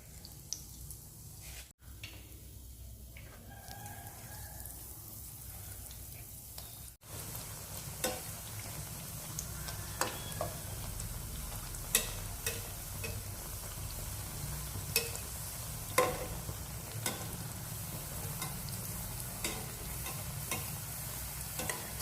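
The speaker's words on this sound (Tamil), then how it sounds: "மாவுல முக்கி எண்ணெயில போட்டுக்கோங்க." Appalam bajji, papad dipped in batter, frying in hot oil: a steady, close sizzle with scattered pops and crackles that grows fuller after a brief pause, with no voices.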